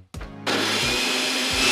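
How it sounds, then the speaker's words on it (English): A kitchen blender switched on by remote kicks in abruptly after a brief lower rumble, then roars at full speed with a loud, steady, high whine that stays close and continuous, with no talking. "I've even got a remote for my blender."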